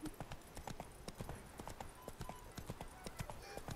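Roach, a horse in The Witcher 3, walks at an even pace, its hooves clip-clopping in a steady, close rhythm with faint ambient sound behind.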